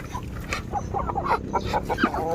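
Busy poultry clucking and squawking in short, overlapping calls close by, with a steady low background hum throughout.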